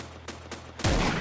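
Gunfire in the survival video game Next Day: Survival: two quick, fainter shots followed by a louder, sharper blast with a lingering rumble, heard without speech.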